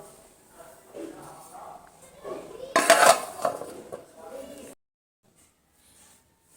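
A cooking pot lid comes off a pot of an egg curry with coriander leaves on top. A bright metallic clatter and scrape rise in the middle over a low voice, then the sound stops abruptly into near silence.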